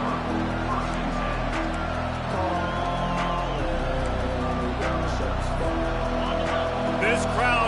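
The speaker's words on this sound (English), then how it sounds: "This crowd going to try to make life miserable for these guys." Loud, steady roar of a stadium crowd at an American football game, with whoops and cheers rising and falling throughout, under broadcast commentary.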